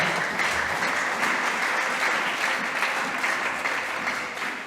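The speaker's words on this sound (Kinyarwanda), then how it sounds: "Reka dukomere Imana amashyi y'ukabyara." A church congregation at a Sunday service claps together in sustained, dense applause, loud and close, steady for several seconds with no talk over it.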